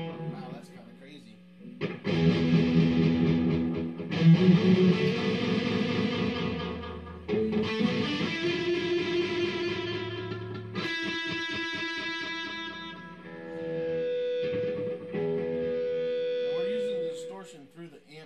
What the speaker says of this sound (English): we're gonna kick on some distortion and rip out a couple leads for you